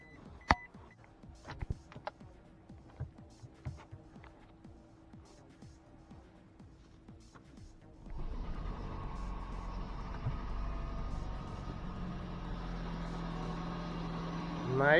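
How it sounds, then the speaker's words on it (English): A Toyota Prius being checked after a catalytic converter theft is started. Quiet clicks and beeps come first, then a steady low engine hum switches on partway through and keeps running, close and moderately loud. "Let's start her up, see how she sounds."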